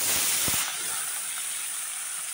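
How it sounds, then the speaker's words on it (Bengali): Small local river fish dropped into hot oil in a wok, a loud burst of sizzling that settles into a steady, close, bright hiss. "দেখো কড়াইতে তেল গরম হয়ে গেছে, আমি এখন মাছগুলো দিয়ে দেব।"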